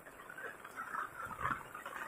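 Heavy rain falls in the hills, heard as a soft, steady patter of drops that stays faint and even for the whole short stretch.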